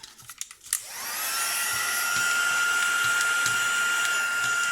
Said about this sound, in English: Right, so let's dry this.